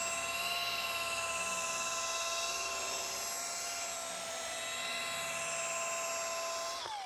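A rotary polishing machine buffs oxidized paint to restore gloss in a showroom, giving a steady, loud high-pitched whine with strong harmonic tones that drops in pitch as it winds down at the end.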